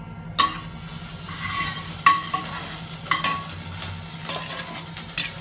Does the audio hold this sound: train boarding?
no